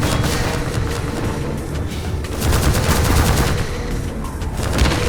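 Dense, sustained gunfire from Half-Life 2, a loud continuous barrage of overlapping shots and bursts rolling on without pause for several seconds, with no voices.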